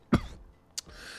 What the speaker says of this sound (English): Like a good cough gets people going.